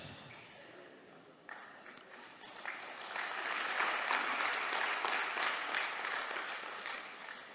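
Audience applause at a spiritual talk rises from a light patter into a full, sustained burst of clapping that fills the hall, continuing steadily to the end.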